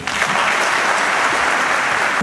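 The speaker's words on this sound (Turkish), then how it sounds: "Huzurlarınızla, o güçlü alkışlarınızla" A choir concert audience applauds steadily with dense, loud clapping throughout, no voices on top.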